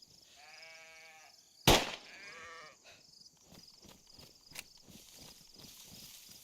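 A sheep in a hunting video game bleats with a wavering, buzzy cry, followed by a sharp gunshot and then scattered footsteps and rustling movement.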